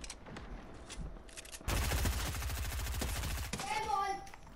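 Rapid bursts of gunfire from Fortnite, a dense volley of automatic shots over a couple of seconds followed by a few scattered reports, with a voice speaking before and after.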